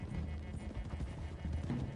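Horses' hooves clop steadily in Red Dead Redemption 2, a busy low patter of several animals moving together, close and continuous with no talk over it.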